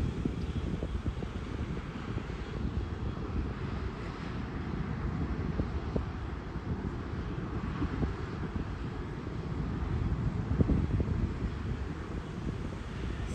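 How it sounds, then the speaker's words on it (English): Steady wind buffets the microphone at Rotary Park in Sault Ste. Marie, Michigan, beside the shipping channel. A dense, low rumble continues for the whole stretch and swells slightly near the end, with no voices. "Okay, it's windy again."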